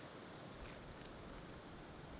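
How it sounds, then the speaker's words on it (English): Strong wind blowing through the woods on a cold, early-winter day makes a steady, dense rushing roar that fills the whole clip without pause, with slight gusty swells and no voices. "where I am right now, it's super windy"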